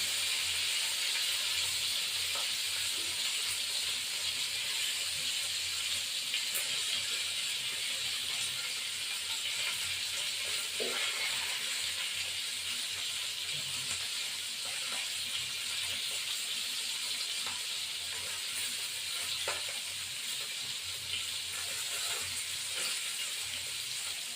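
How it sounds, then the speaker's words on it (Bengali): Chapila fish fry in a pan with a steady, even sizzling hiss that holds at a moderate level throughout, with a few faint clicks and no talking. "মাছটাকে ভেজে ফেলবো"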